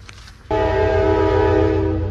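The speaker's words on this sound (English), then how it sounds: "One train after another." A train horn blasts loud and sustained at a whistle stop as trains pass, a steady multi-tone blare cutting in abruptly over low rumbling rail noise.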